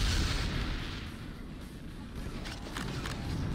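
Heavy booming weapon shots in the video game Quake II, a loud low blast at the start followed by a rumbling tail and a few sharper bursts near the end.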